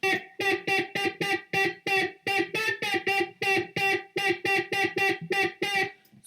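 A loud, heavily overdriven, distorted tone on a music production track played in quick staccato bursts, about twenty pulses in a steady, bouncy rhythm, with no voices.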